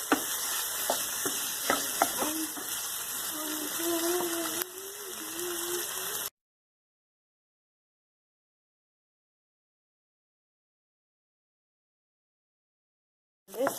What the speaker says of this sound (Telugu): కొంచెం ఆయిల్ వేసి ఫ్రై చేసుకోవాలి. 5 నిమిషాల పాటు మంచిగా కలర్ వచ్చే వరకు.